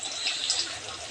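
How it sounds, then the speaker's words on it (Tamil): Water pours steadily into a cooking pot for upma, a soft continuous splashing stream heard close and fairly quiet, with no talking. "இந்த 2 கிளாஸ் தண்ணி ஊற்றலாம் வாங்க."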